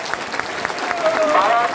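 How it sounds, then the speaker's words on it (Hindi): A crowd on a railway platform claps at the flag-off ceremony for the Dumka–Patna Express train. A brief burst of applause sounds under voices, and a steady tone rises toward the end. "ताली बजाइए।"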